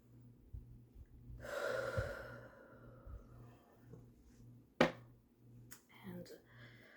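A long, audible inhale through the mouth, close and soft, followed by a slow exhale, then a sharp tap and some quiet handling of a deck of oracle cards, all over a faint low rhythmic hum.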